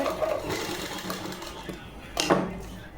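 A sewing machine stitches lace onto a Punjabi suit kameez, making a close mechanical whirr in short uneven runs, with a louder burst near the end.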